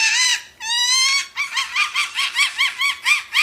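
Peregrine falcon call: a long harsh whining cry, then a fast run of about a dozen rhythmic, chattering cacks repeated steadily, loud and close, with no other sounds around it.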